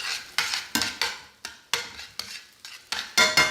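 A spoon clatters repeatedly against a frying pan as food sautés and browns, about a dozen sharp scraping strokes in quick, uneven rhythm, close and clear with no talking.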